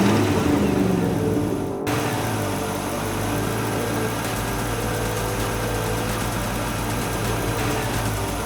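Cartoon model cars revving off the starting line of a Peppa Pig race, a steady loud engine drone kicking in after a brief dropout near two seconds and holding on continuously.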